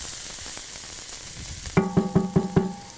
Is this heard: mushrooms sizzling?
yes